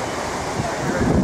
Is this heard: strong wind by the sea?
yes